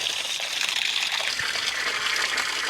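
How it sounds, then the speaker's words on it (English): Water gushes from a hose or container into a planting hole dug in clay soil for an avocado tree, a steady, close splashing rush that holds even throughout with no talking. "Nice demonstration there of how the water just goes in and stays underneath."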